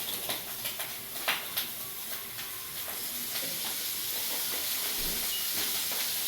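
Cooking oil hisses and sizzles steadily in a pan in a small home kitchen, with sharp spatters popping early on before settling into a dense, even frying hiss.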